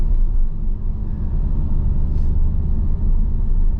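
A Porsche Cayman on Bridgestone Blizzak winter tires creeping along a snowy road at about 26 mph, giving off a steady, loud low rumble of engine and road noise from inside the cabin, with no talk.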